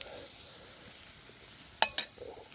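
Meat frying dry in a pan without oil over an outdoor fire in a forest sizzles with a steady close hiss, interrupted by two sharp metallic scrapes or clinks near the end.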